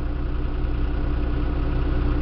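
A John Deere tractor idles nearby on a hot summer day, giving a steady low rumbling drone with an even mechanical throb and no talking.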